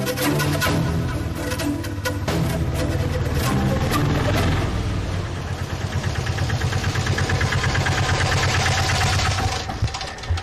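An auto-rickshaw engine idles close by with a steady, dense mechanical chatter and rapid rhythmic pulsing that holds loud and continuous throughout, with no voices.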